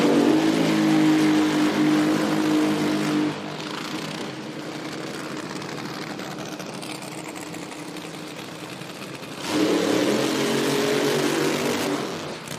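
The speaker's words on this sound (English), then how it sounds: "next pair fired up there is a look at Del Worsham Toyota Supra" Del Worsham's Toyota Supra nitro drag racing car at an IHRA Pro Mod and Top Fuel qualifying event in Hebron, Ohio, fires up with a loud, steady engine roar that dips in the middle and then swells back up near the end.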